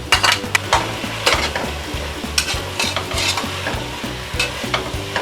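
Tomatoes frying with onion masala in a pan while cooking a quick pressure-cooker biryani: a steady close sizzle broken by repeated scraping stirs at an even rhythm, with no voices.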